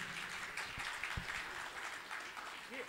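A large audience at a Hindi kavi sammelan, a poetry gathering on an event lawn in Gorakhpur, claps loudly and steadily for a woman poet. The dense applause continues for the whole stretch with no clear talk over it.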